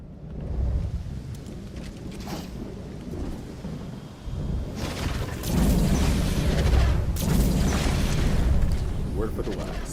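Rumbling thunder rolls through a rainy storm in the video game Lego Fortnite, with a steady hiss of rain and heavier booming swells toward the end.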